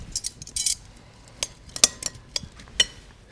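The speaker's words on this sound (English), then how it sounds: "Take a little of our vinaigrette. Really simple. Mix this." Vinaigrette stirred over fennel salad with a utensil, a string of light metallic clinks and taps of cutlery against a dish, close and irregular.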